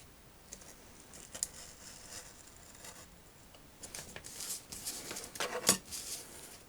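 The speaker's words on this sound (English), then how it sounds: "I'm going to use a scalpel and a ruler" A scalpel drawn along a ruler cuts cape material for a vintage Teenage Mutant Ninja Turtles Splinter figure, making faint scratchy scraping strokes that grow busier and end in a sharper snip-like tick near the end.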